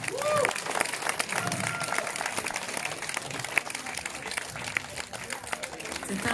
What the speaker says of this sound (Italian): Un applauso ai nostri musicisti.